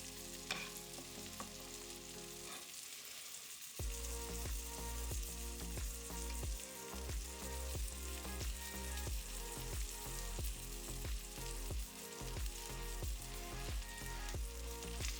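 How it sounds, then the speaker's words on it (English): A ribeye steak sizzles loudly in a pan as it is basted with butter, thyme and garlic, a steady close crackling fry with spoon scrapes and spits, and no one speaking. "Now we're going to cook this side of the steak for around about 3 minutes, basting it intermittently."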